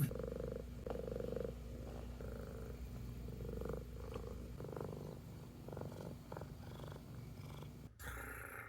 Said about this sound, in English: his purr is quite aggressive